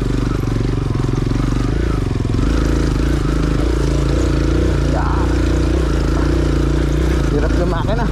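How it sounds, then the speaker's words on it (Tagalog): A motorcycle carrying a passenger strains uphill, its engine laboring with a heavy, constant low rumble and clatter, loud and close throughout, with faint voices mixed in. "Hirap yung makina."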